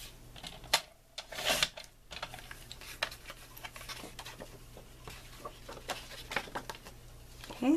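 Paper pieces cut to size for a mini album with a paper trimmer, a run of small close clicks and sliding scrapes in an irregular rhythm, quiet and with no voice.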